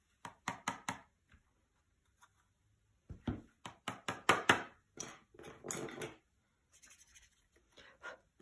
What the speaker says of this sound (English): sprinkle it over and tap off the excess like so